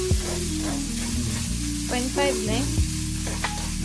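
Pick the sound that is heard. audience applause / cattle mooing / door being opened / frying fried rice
frying fried rice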